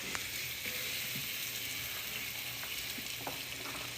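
Onions sizzle steadily in hot oil with curry, turmeric and ginger, a soft continuous frying hiss close by with a few faint stirring clicks and no talking.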